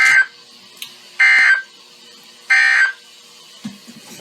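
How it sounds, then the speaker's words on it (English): NOAA Weather Radio emergency alert system test tone: three loud, harsh electronic bursts roughly a second apart, each lasting about a third of a second, with quiet gaps between them. "This concludes the test of the No-Weather Radio warning alarm device, an emergency alert system."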